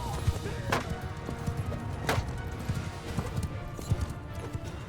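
Horse hooves clip-clopping at a steady trot while riding in Mount & Blade II: Bannerlord, a busy low rhythm under a noisy battlefield background with a few sharper clatters.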